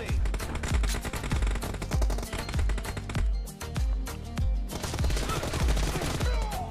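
Rapid, continuous bursts of M4 rifle gunfire in the mobile game PUBG, played on a OnePlus 10R, sound loud and punchy, with only brief gaps between strings of shots.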